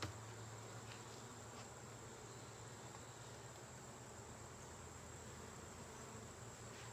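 Honey bees hum faintly and steadily around an opened beehive, a soft continuous buzz with no voices.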